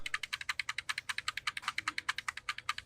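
Rapid, evenly spaced taps on the F2 key of a Dell computer keyboard, about two dozen crisp, close clicks in a steady quick rhythm with no talking.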